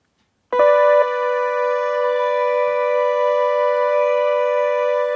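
Keyboard-played British Airways siren: a sudden loud, steady harmonic wail starts after a brief silence and holds constant, with a slight pitch step near the start.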